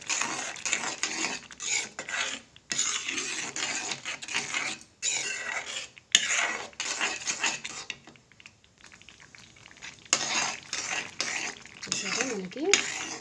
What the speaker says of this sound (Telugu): ఇది మొత్తం కలిపేస్తాను.